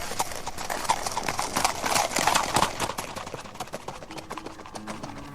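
Hooves of a weak donkey clip-clop in a steady rhythm, close and clear, with a faint voice and some background sound beneath the footfalls.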